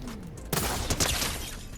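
Gunfire bursts in the Fortnite video game, a sudden loud volley of shots starting partway through and continuing densely to the end, over a quiet start.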